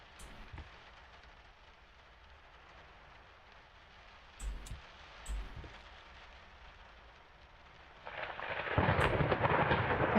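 A thunderstorm in the horror game Layers of Fear: steady rain hiss with a couple of low thunder thumps midway, then a loud swelling rumble of thunder and heavier rain near the end.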